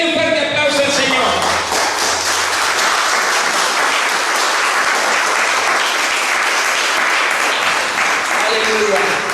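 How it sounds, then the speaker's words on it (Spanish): A large church congregation claps loudly and continuously, with voices and cheering mixed into the sustained applause. "Denle un fuerte aplauso al Señor."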